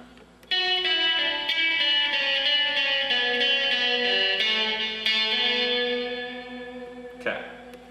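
Distorted electric guitar plays a fast melodic line from a guitar solo, with quick picked and hammered notes ringing under reverb and delay, loud and alone, then cut off by a brief scrape near the end.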